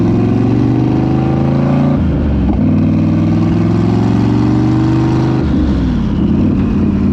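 A car engine runs steadily while driving, a continuous mid-pitched drone with shifts in load around two and five seconds, loud and close with no talk over it.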